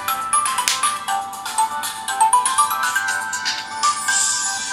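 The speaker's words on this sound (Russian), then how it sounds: "Вот такое вот приветствие нашего смартфона." Startup greeting of a Zopo ZP810 smartphone with an MTK6589 chip, a bright melodic chime of layered tones rising and ringing out, loud and close, alone without any talk.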